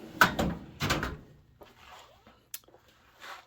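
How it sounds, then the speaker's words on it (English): Small motorcycle parts from a 1986 CR125 tank restoration are tossed into a drawer, giving a few close clattering knocks and a drawer rumble, followed by softer scattered clicks and shuffling in a workshop. "I'll throw them in the drawer."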